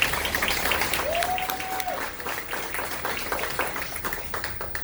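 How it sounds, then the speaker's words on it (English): Audience applause for Carl and Malona at a cast Q&A, a steady wash of clapping with a brief whistle-like tone early on, moderately loud and continuous throughout. "So I believe they really do deserve a round of applause for that."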